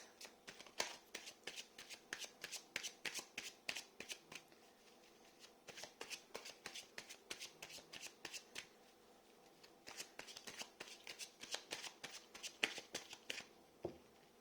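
Tarot cards being shuffled by hand, repeated quick riffling clusters of soft paper slaps in several bursts with short pauses between, close and fairly quiet.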